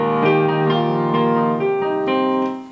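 Piano playing the chorus of a song: a few sustained chords change at an even pace, full and close, fading at the end.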